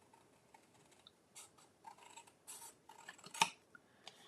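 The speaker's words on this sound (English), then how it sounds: "you can just take your scissors and cut it" Scissors snip through card stock while making a Valentine fold card. Several quiet, crisp cuts come at an irregular pace, with one sharper snip standing out near the end. No voices are heard.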